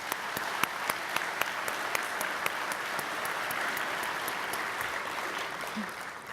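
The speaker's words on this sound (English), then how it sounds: "Please join me in giving them each a round of applause." Audience applause at an annual meeting, steady and continuous for several seconds, with sharp individual claps standing out over a dense, fairly distant wash of clapping.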